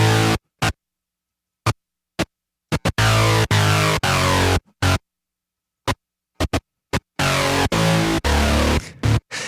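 Synthesizer parts pushed hard through distortion pedals come as gritty, abrasive bursts, first short stabs separated by silence, then longer dense stretches toward the end.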